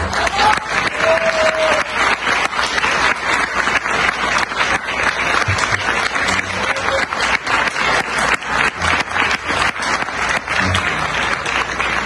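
Audience applause fills a hall at a speech, steady many-handed clapping sustained for over ten seconds with a few faint voices and shouts mixed in.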